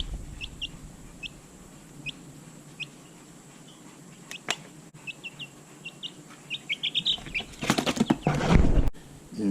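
One-week-old Freedom Ranger chicks give short, high cheeps scattered through the scene, rising into a louder flurry of peeping, wing flapping and scuffling near the end.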